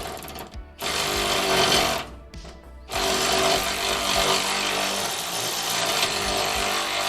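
A power tool in a garage tightens bolts in loud rattling bursts, two short runs cut off by brief pauses before a longer sustained whir, with no talking.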